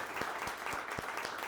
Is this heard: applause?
yes